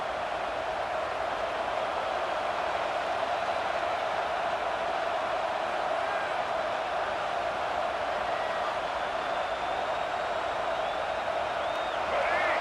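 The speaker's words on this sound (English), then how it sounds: "But how loud is it in this building? This is crazy. These fans are going absolutely nuts." Loud, steady roar of a stadium crowd cheering in EA Sports College Football 26, a dense wash of fan noise that holds without a break.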